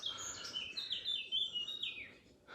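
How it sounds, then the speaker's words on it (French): Birds chirp in the morning, with several thin, high tweets and short trilling calls repeating close by over a faint background hush, and no talking. "J'adore les oiseaux dès le matin comme ça."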